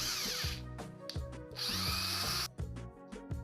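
A drill driver powering a meat grinder whirs in repeated bursts, revving up and cutting off several times with a grinding, churning load of celandine plants beneath, close and loud.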